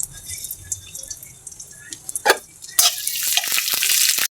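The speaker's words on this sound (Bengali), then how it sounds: "কাঠবাদাম আর কিশমিশগুলাই বাজ্য নিতেছি" Almonds and raisins sizzle in a pan for a Bengali palm-fruit payesh, quiet at first with a few drips and stirs, then bursting into loud, steady frying hiss.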